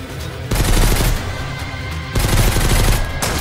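Sustained automatic gunfire in the survival video game Mist Survival, loud dense bursts in two long runs with a brief lull between, no talking over it.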